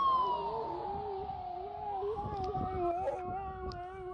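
A dog howling like a siren, a long wavering, sliding wail that dips and rises in pitch for several seconds, fairly faint with some soft background noise.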